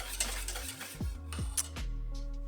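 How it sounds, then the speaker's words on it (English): Whisk scraping and clinking against a pot of coconut milk pudding mixture, a rhythmic run of close metallic taps and swishes heard alone. "I'm going to keep whisking this as it heats up"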